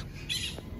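A toucan at a bird enclosure in Mazatlán gives a single short, harsh squawk close by against a faint background hum, with no voices.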